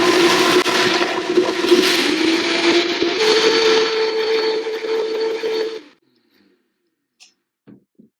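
A blender pulverizes fermented lemon into powder with a loud, steady whirring roar for nearly six seconds, then cuts off abruptly, leaving a few faint clicks and handling sounds in the quiet.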